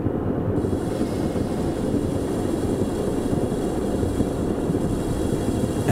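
Diesel railcar in a train simulator game, throttle cut and brakes applied as it slows, a loud steady low rumble and rolling wheel noise filling the whole stretch without voices.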